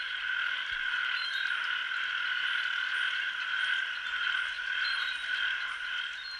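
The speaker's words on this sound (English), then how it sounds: "The males call to attract the females" Male tree frogs call in a Central American rainforest pool, a dense continuous high-pitched chorus of trilling croaks, loud and steady with no voices.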